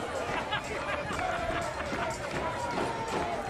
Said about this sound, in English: Philadelphia, we weren't lying. They're all here, and they're loud.